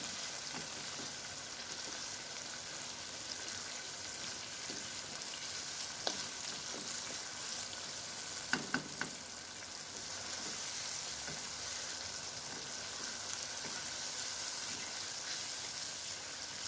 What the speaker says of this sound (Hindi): अच्छी तरह फ्राई करेंगे खुले दिल से।